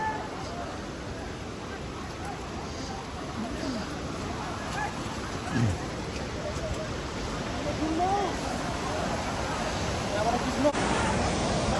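A swollen river rushes at Sundarijal as a steady, full roar of water that runs the whole way through, with people talking and calling faintly in the background.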